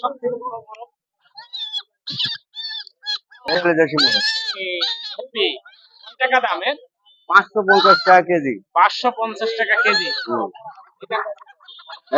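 Ducks of several breeds, including local and Chinese ducks, quacking and honking loudly in bursts close by at Mirpur poultry market in Kushtia, Bangladesh, with occasional chicken sounds and people talking over the noisy poultry.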